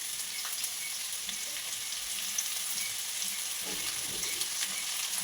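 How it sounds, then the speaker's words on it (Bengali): Potatoes frying in a little oil in a kadai with panch phoron and dried chilli: a constant close hissing sizzle with light scraping stirs, even in level throughout, no voices. "এরপর 5 ফোড়ন শুকনো লঙ্কা দিয়ে আলুটা একটু কষিয়ে নেবো।"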